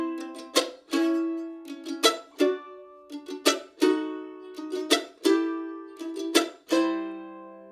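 Slow mandolin chop-chord rhythm in the bluegrass style, with sharp percussive chops each followed by ringing chords, played alone at a deliberate steady pace.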